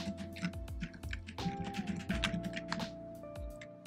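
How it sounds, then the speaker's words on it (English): Fast typing on a computer keyboard at a desk with a Raspberry Pi 4, a steady rattle of close key clicks with short pauses, no voices. "we'll start typing like we're typing a document"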